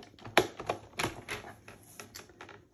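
Scissors snip through printed paper images for a Stamperia Passion scrapbook album, a few crisp, close cuts in an uneven rhythm with small rustles of paper between them.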